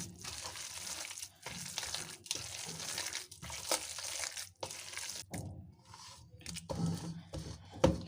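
Cabbage and chicken being mixed by hand with cornflour and meat masala for pakoras, a close wet crinkling and squelching in repeated bursts with short pauses, no talking.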